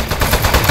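Automatic gunfire in the Aperture Desk Job video game, a loud, close, fast rattling burst lasting under a second.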